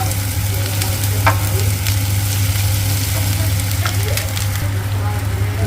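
Onions fry in a pan for peyaj posto, giving a dense, even sizzle with occasional spatula scrapes over a low steady hum throughout.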